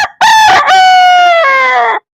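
A rooster gives one loud, close crow, a long drawn-out cock-a-doodle-doo lasting under two seconds and ending abruptly into silence.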